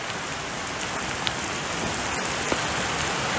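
Steady rainfall pattering on surfaces, a dense even hiss with a few sharper drops, close and continuous with no voices.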